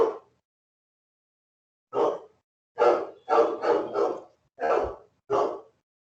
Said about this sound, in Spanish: pido disculpas por los ladridos de mi perro